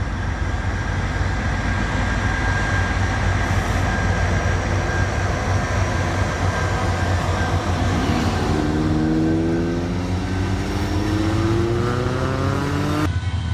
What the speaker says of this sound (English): the train swiftly takes a curve